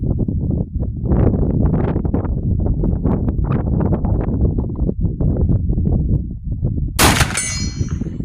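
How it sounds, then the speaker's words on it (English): A rifle loaded with an early smokeless powder load fires once offhand at 100 yards over wood, a single sharp, loud report near the end after continuous talking. "I'm shooting 100 yards offhand"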